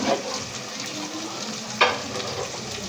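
Onions fry in a pan with a soft, continuous sizzle and crackle, and a single sharp utensil clack cuts through partway.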